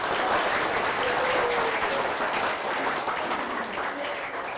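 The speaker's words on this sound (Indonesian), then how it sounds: "Tepuk tangan dulu untuk guru kita" An audience at a school Ramadan program applauds for the teacher, a dense, sustained wash of clapping that stays loud and even throughout.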